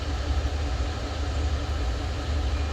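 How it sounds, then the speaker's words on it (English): A heritage train at a railroad museum in Tennessee begins to move, giving a steady low rumble of engine and rolling stock that holds evenly throughout, with no talk over it. "I think this one's about to move now that that one's left the station."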